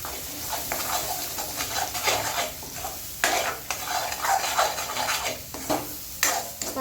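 Egg bhurji being stirred and mixed in a hot pan, a spatula scraping steadily over a soft sizzle, with sharper clinks against the metal now and then.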